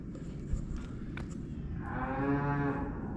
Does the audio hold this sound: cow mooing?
yes